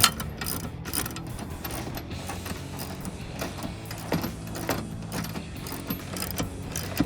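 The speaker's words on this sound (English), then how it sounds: "It gets tight pretty quick, so just go back to the wrench, do the same thing." A wrench turns a bolt under the rear seat of a 2019–2022 Silverado/Sierra 1500 while fitting a Tuffy lockbox, producing rapid ratcheting clicks in short repeated bursts at close range.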